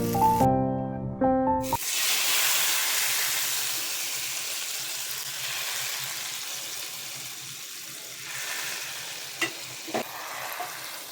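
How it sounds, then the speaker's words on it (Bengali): Garlic fries in a little oil for a tempering, giving a soft continuous sizzle after a brief burst of other sound at the start, with a couple of sharp clinks near the end. "একটু তেলে ভেজে নিল"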